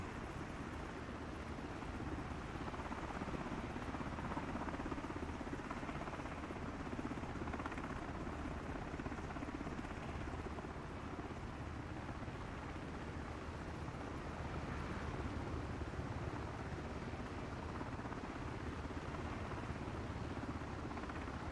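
An MH-60 helicopter flies in the MSFS 2024 flight simulator game, giving a steady, loud, unbroken drone of rotor and turbine noise that holds without change for over twenty seconds, with no voices.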